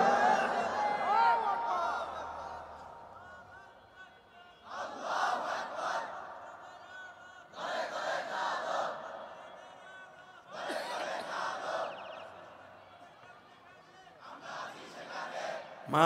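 A crowd shouts takbir together in four loud bursts of massed voices, each a few seconds long with short pauses between, following a single speaker's lead.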